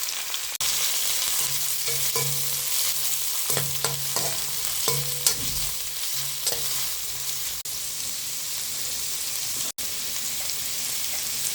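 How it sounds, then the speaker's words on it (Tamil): Chopped onion sizzles and fries in a pan while being stirred, a steady crackling hiss with scattered scraping and clinking from the stirring, no talk. "இது கூடயே போட்டுட்டு கிண்டி விட்டுக்கலாம்."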